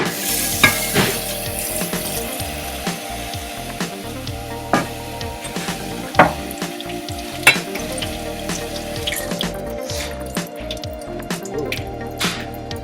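Cooked macaroni is stirred in a strainer, with steady dripping and scattered soft clicks and splats, close by and without talk.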